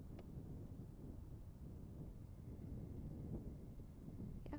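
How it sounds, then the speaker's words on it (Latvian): Strong wind blows by open water near a lakeside greenhouse as a faint, steady, low rumbling buffet on the microphone with no clear voices. "Diezgan liels vējš ir."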